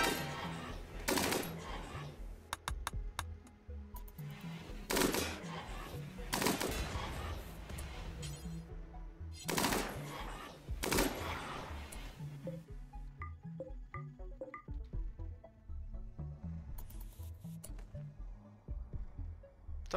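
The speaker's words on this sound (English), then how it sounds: "Seriously, something is exploding." Explosions in the video game Rimworld, several sharp loud blasts spaced a few seconds apart, each with a booming tail, followed by a quieter stretch with faint tonal game sounds.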